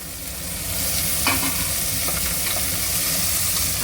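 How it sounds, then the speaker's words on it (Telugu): Onion and green chillies fry in a pan for dal khichdi, giving a steady close sizzle with a few stirring scrapes and no voices. "అందులోనే ఆనియన్ వేయాలండి."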